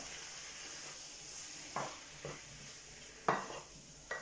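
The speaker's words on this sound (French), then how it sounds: "La tomate, on remue. On imprègne bien les deux." Tomato being stirred in a pan for Breton galettes: a quiet background sizzle broken by four distinct scraping clinks of a utensil against the pan, close and unaccompanied by talk.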